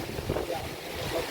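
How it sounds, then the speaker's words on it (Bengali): Stormy wind during heavy rain roars in a steady low rush under a darkening sky, a brief moderate-level blast of gusting air with rain noise. "কি যে বৃষ্টি শুরু হয়েছে, চতুর্দিকে হাওয়া।"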